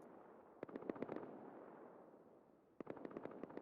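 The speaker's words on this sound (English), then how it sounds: "We hear some gunfire, but no boom going off." Two bursts of rapid video-game gunfire in a Rust tournament match crackle at a distance, a cluster of quick shots, a pause, then another volley, faint over a steady low background.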